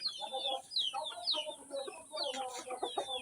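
A chicken clucks repeatedly at fairly low volume, a steady run of short, fast clucks with scattered higher squawks, while someone tries to catch it.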